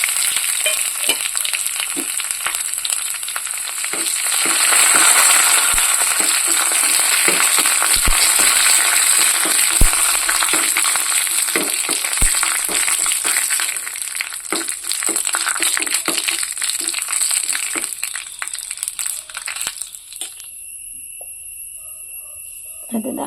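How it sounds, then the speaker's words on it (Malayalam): Curry leaves and dried red chillies sizzle loudly in hot oil with popping mustard seeds while tempering a kurukku kalan for a sadya. The steady, close frying hiss runs throughout and quiets near the end. "ചോർന്ന മുളകും കൂടി ചേർക്കാം"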